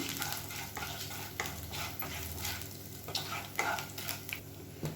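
Cumin, cinnamon, cloves and a bay leaf roast in a kadai with a soft sizzle, and a spoon scrapes and stirs in irregular strokes over a low hum.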